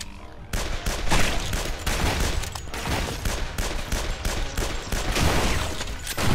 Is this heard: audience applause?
no